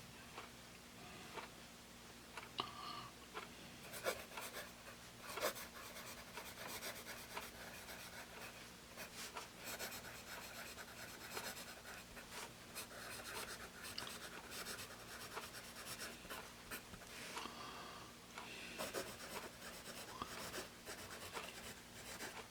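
A Staedtler Norica 2HB pencil writes on paper, giving a continuous, slightly scratchy rasping drawn out in quick strokes with brief pauses, close and fairly quiet over a faint steady hum.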